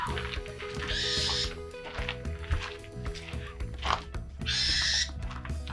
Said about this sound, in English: He's one of our hand-raised owls.